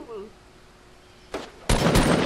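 Gunfire in the video game Fortnite, a couple of sharp loud shots at the end following a brief quiet stretch, with a voice heard briefly at the start.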